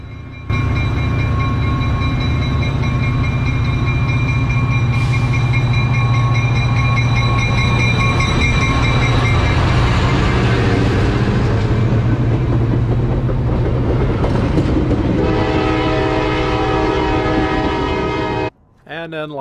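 A WeGo Music City Star commuter train arrives at Donelson Station platform in Nashville, with loud sustained horn blasts over a heavy engine rumble and wheel clatter, close and continuous until it cuts off near the end.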